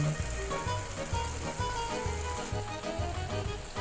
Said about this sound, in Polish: Wszystko razem mieszam i jeszcze troszeczkę podgrzewam.